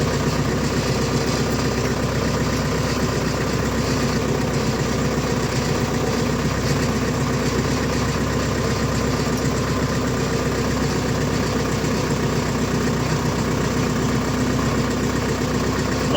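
Chinese Scout 404 tractor pulling a Kverneland plough through a cornfield in first gear, a steady, loud diesel drone that holds an even tone throughout with no breaks.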